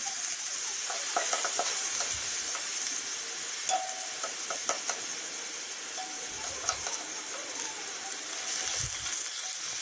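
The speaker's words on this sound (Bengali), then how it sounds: "পেঁয়াজ বাটাটা হালকা ভেজে নিয়ে দিয়ে দেব একটুখানি আদা বাটা" Onion paste and ginger paste fry in a pan with a steady close hiss and sizzle, dotted with small crackles and pops throughout. No speech.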